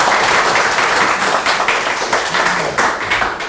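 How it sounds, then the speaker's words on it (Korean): A lecture audience at a conference breaks into applause to open the talk, dense sustained clapping from many hands filling the room at close range for a few seconds. "렉처니까 먼저 우리 박수로 시작할까요?"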